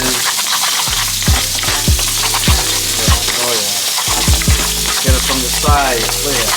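Steak fries loudly in a hot, splattering pan, a dense crackling sizzle punctuated by repeated sharp pops and scrapes, with no talking.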